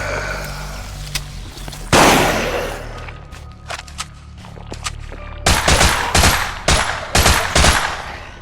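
Shooter video game gunfire with headshots and limb-targeting combat: a heavy blast, then scattered single shots, ending in loud rapid bursts of automatic fire close up, with no talking.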